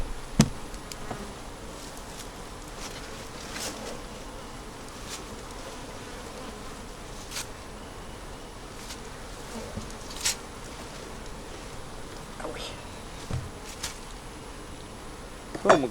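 Honey bees hum softly in and around a small, slowly building nucleus hive, a faint steady drone broken by a few brief closer passes and light knocks, with no talking.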